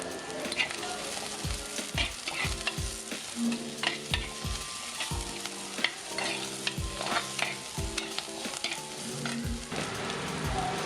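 Five green chillies fry in a pan for a Kerala sail fish curry, a close steady sizzle with repeated scraping and clattering stirring strokes throughout, no voices.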